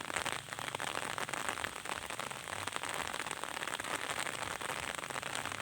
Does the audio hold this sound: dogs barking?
no